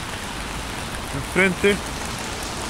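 Rain falls steadily on the shore of Angelmó cove in Puerto Montt, a broad even hiss with abandoned boats nearby, while a voice briefly speaks over it.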